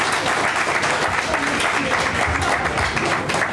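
Steady applause from an audience at an evening gourmet workshop during a wine fair, a dense, continuous wash of clapping from many hands, fairly close and holding at an even level throughout with no voices over it.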